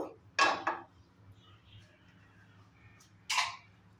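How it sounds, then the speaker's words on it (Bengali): A nonstick pan is set down on a stove while cooking zero-oil mint chicken, giving two quick close metallic clanks followed later by one more clatter against a quiet background. "এখানে আমি একটা ননস্টিকের পাত্র বসিয়ে দিব।"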